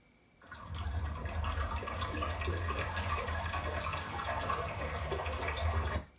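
Rushing, splashing water plays loud and continuous like a running stream or pouring flow, starting abruptly and stopping near the end.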